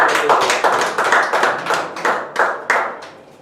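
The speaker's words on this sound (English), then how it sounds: "Give a big round of applause to" A small group at a Toastmasters club meeting gives a round of applause, with a dozen or so close, sharp hand claps in a loose rhythm that fade slightly toward the end.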